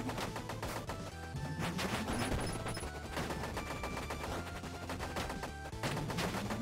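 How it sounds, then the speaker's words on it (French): Rapid gunshots from the Batboy video game crackle in dense bursts over a steady game soundtrack, loud and continuous across the stretch. "Que je tire là où je pense qu'il va être."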